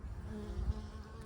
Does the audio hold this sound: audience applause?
no